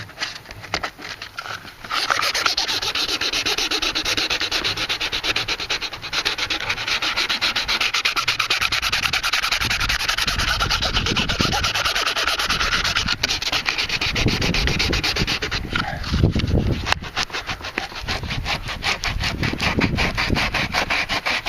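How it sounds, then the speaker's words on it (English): Steady, close rubbing strokes of 180 to 200 grit black sandpaper sanding a surface while installing a glue-on transducer mount on an inflatable boat or kayak, continuing without pause for about twenty seconds. "So you can see the material coming off there on the black sandpaper."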